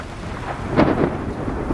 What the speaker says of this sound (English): and the sound of thunder was scary.